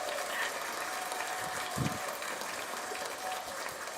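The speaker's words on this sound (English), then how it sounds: "such a long clap. it's like extended." A conference audience claps steadily and at length after a talk on storytelling for UX design, a continuous even wash of applause with little change in loudness.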